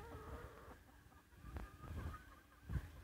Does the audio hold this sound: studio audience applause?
no